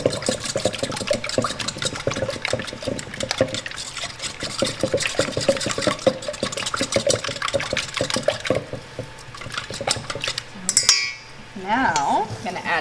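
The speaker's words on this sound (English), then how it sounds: "now we're just gonna whisk it all together until combined" Wet ingredients with molasses and vanilla extract are whisked together in a bowl for gingerbread scones, giving a steady rapid clatter of the whisk against the bowl that runs most of the way, with a voice talking over it.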